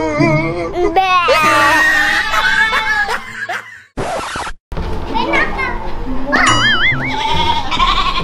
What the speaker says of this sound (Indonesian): Nah, itu kayak suara kambing aku tuh